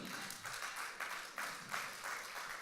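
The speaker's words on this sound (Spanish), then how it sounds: "Give a strong applause to Jesus." A church congregation at a bilingual Spanish-English sermon applauds, with steady, moderately loud clapping that swells and fades in waves, heard alone with no talk.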